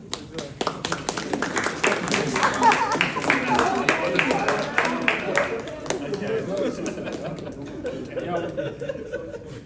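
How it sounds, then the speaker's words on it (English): A small audience at a Tibetan youth brainstorming session in Calgary claps in a dense rattle that fades toward the end, with chuckles and chatter mixed in. "So can you clap?"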